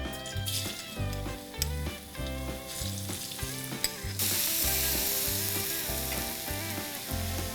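Chopped garlic sizzles in hot oil in a pan, the start of a honey chilli broccoli sauce. The hiss swells partway through beneath loud, rhythmic background music.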